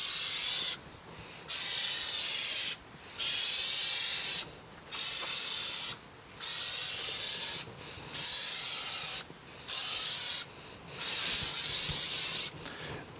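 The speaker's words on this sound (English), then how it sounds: "make sure not to get any on the burner element and spray the rest of the unit" Repeated bursts of spray hiss loudly and close inside a Masterbuilt 140B electric smoker, each lasting about a second, separated by brief pauses in a steady rhythm.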